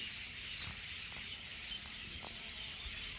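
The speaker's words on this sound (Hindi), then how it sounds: "इतनी शांति है कि एक एक पक्षी की आवाज़ आप सुन सकते हो।" Small birds chirp faintly and sparsely in the stillness around a quiet Hindu temple, soft calls scattered over a steady hiss of open-air background with no voices.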